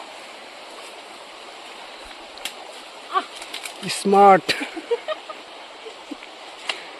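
A river in Arunachal Pradesh flows with a low, steady rushing hiss in the background, while a person speaks briefly nearby and a few sharp chirps and clicks break through.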